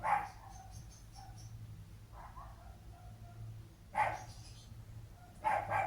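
A dog gives a handful of spaced, moderately loud barks, with short quieter yips between, over a low steady background hum.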